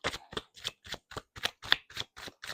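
A deck of tarot cards being shuffled up close, a series of about nine short papery riffles and slaps in a fairly even rhythm.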